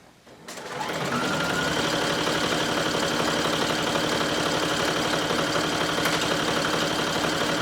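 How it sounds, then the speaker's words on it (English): A sewing machine bastes a long straight stitch at its longest length, a fast continuous mechanical whirring hum that starts within the first second and runs steadily and close with no talk. "I'm gonna go ahead and just baste with just a regular straight stitch and the longest length"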